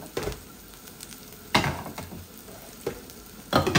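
Chicken frying in a pan with mild Madras curry powder, with stirring and scraping strokes that give bursts of sizzle at intervals over a steady background hiss.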